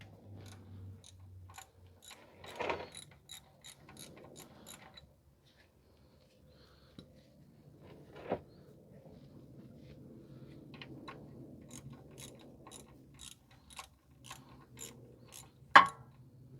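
Ratchet wrench loosening the 14 mm oil drain plug underneath a 2016 Nissan Rogue 2.5, giving quiet bursts of clicking ratchet strokes with a few sharper metallic knocks, close and fairly faint, with no talking.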